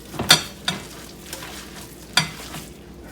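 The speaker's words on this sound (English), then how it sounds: "And we're just gonna start to lightly mix this." Gloved hands mixing ground turkey meatloaf with green peppers and onions, soft wet squishing under faint background hiss, with a few sharper sticky slaps spaced out over a few seconds.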